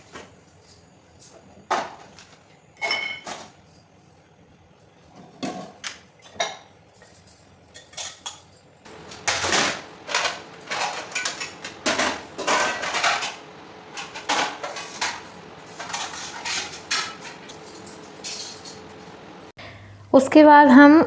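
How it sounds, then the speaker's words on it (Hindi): Steel dishes and cutlery being wiped and stacked in a home kitchen, giving sparse clinks and clatters that turn into a busy run of metallic knocks and rattles, with someone talking over part of it. "आजकल बर्तन सूखते नहीं हैं, तो बर्तनों को पोंछ के मैं अच्छे से सेट कर देती हूँ।"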